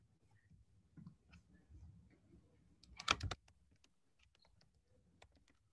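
Quiet, sparse keyboard typing on a computer, scattered soft key taps with one brief louder burst of clicks midway, in a still room.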